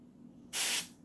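A loud, steady hiss from an aerosol spray can running low starts abruptly halfway through and runs for about half a second before fading, while cleaning a Lego castle.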